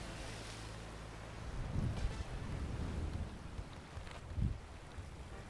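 Wind and lapping water surround a sailboat gliding across open sea in the sailing game Sail Forth, steady and soft with a couple of gentle swells of louder splashing.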